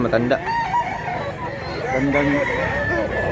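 An old three-year-old fighting rooster crows nearby, its drawn-out rising and falling call loud and clear amid other fowl clucking, with faint voices in the background.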